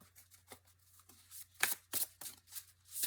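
Tarot cards being shuffled by hand in a series of crisp, papery riffling bursts, close and fairly loud, with short pauses between the shuffles and a faint low hum underneath.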